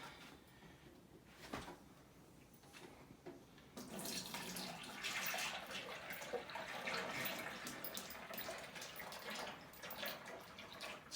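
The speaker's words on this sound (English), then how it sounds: "So I'm going to pour this semi-boiled down sap" Semi-boiled maple sap poured through a filter in a holder into a 5-gallon bucket: a steady splashing liquid stream that starts faintly, then swells to a fuller, louder gush close by.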